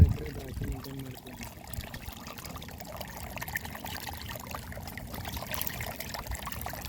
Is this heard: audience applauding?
no